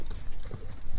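Hooves of a horse kept for ulak games clop in a short, rhythmic run on firm ground in a yard where the horse is up for sale.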